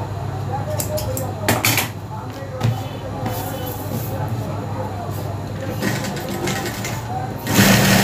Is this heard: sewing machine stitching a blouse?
yes